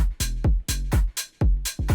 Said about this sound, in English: just a kick, hi-hat and clap